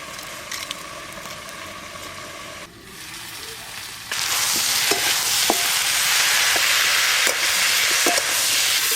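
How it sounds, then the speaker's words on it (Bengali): Vegetables fry in oil from hilsa fish. After a quieter opening the sizzle suddenly swells into a loud, continuous hiss, with occasional sharp stirring knocks close by. "ইলিশ মাছের তেলে সবজি ভাজা হচ্ছে"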